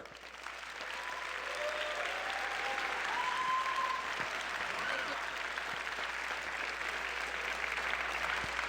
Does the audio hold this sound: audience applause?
yes